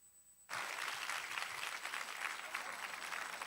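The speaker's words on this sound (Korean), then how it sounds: "따뜻한 박수로 환영해 주십시오." A church congregation bursts into warm applause for a pastor at a Sunday service, starting suddenly after a brief quiet and continuing as full, steady clapping from a large crowd.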